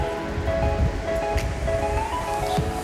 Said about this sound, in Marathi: 2 कप मी पाणी याच्यामध्ये घालत आहे